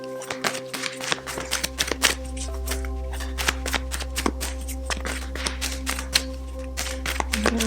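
Tarot cards being shuffled by hand in quick, crisp riffling bursts and sharp snaps, close to the microphone, over a low steady hum.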